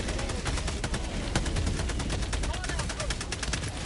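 Rapid automatic gunfire from a support weapon in Helldivers 2, a dense, steady stream of loud shots over a battlefield din lasting the whole stretch, with faint voices mixed in.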